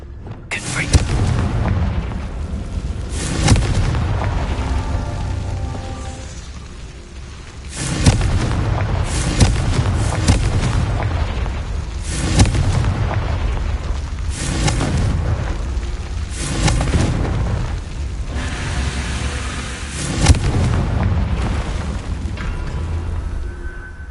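Confringo blasting spells go off in a video game as repeated heavy booming explosions, each a loud low burst with a rumbling tail, coming every few seconds over continuous game noise.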